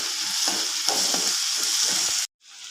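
Onions and tomatoes sautéing in a pan, a loud, constant close sizzle with soft rhythmic scrapes of stirring, cutting off abruptly near the end to near silence before a quieter hiss returns.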